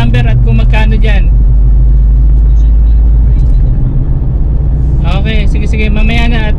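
Car cruising along the SLEX expressway toward Alabang, a steady loud low road rumble inside the cabin, with someone talking on the phone over it at the start and end.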